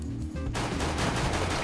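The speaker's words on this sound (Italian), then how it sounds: "Quello è l'ultimo colpo di pistola." Gunfire in the video game CS:GO, a dense burst of sharp shots breaking out after a brief quieter lead-in, loud and continuous to the end with no voices.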